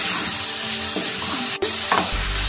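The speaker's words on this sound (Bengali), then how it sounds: "দিয়ে আমি একটু নাড়িয়ে নেব" Boiled potatoes and spice masala sizzle loudly in a hot pan while being stirred, with scraping strokes over the frying crackle during preparation of a Mughlai paratha filling.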